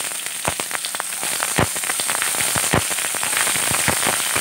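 Dense crackling and sharp pops of mustard seeds sputtering in hot oil, rapid and irregular, close by with a steady sizzling hiss underneath.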